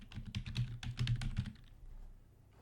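Quick run of keystrokes on a computer keyboard, a dense cluster of close clicky taps over about a second and a half, then quiet, no voices.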